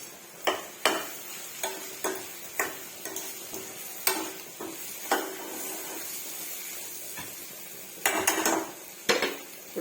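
Curry leaves added to a frying pan of bitter gourd curry and stirred, with repeated scraping clinks of a spoon against the pan over a soft sizzle, in a steady close rhythm.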